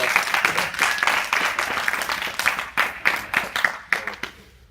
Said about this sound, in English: Mr. Torres, give me that big round of applause here.